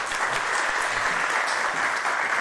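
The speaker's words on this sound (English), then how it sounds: "Let's get another round of applause for her, ladies and gentlemen" An audience applauds at an Earth Day climate-change event: dense, steady clapping fills the whole stretch at an even, sustained level, with no voices on top.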